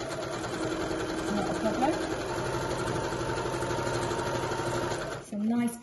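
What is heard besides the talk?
sewing machine sewing a shopping bag seam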